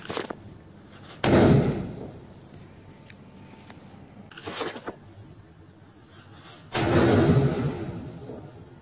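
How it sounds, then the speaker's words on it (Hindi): Cock brand anar bomb firecrackers go off outdoors in three separate bursts, each a loud, rushing, roughly one-second blast followed by quieter background. "कॉक का अनार बम का साउंड भी एक नंबर"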